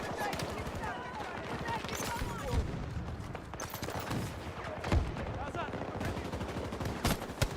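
Gunfire from a weapon in Battlefield 6, shots crack out in a dense, fairly steady stream across the whole stretch, loud and close, mixed with other battle noise and a voice talking over it.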